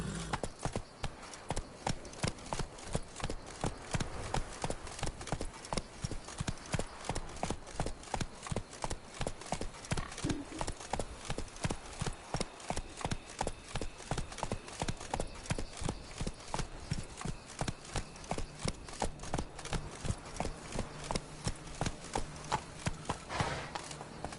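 Hooves clip-clop in a fast steady rhythm as a horse gallops across terrain in The Witcher 3, loud and continuous throughout with a faint voice briefly heard.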